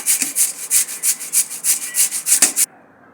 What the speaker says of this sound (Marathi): हा बटाटा मी धुवून साल काढून घेतलेला आहे हे असं किसणीने खिसायचा